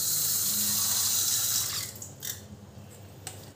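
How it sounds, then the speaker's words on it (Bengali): Water runs steadily from a tap into a container while preparing tamarind seed glue, a close continuous hiss that stops after about two seconds, leaving faint drips and small clinks. "আমি এতটা মতো জল নিয়ে নিলাম"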